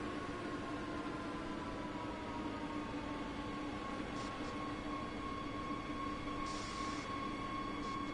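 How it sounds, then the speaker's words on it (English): A steady rumbling metro train interior in Train Sim World 2 with a low mechanical drone and faint high squeals, the train braking into a station, continuous and moderately quiet. "Now we arrived here at this station, going to stop the train."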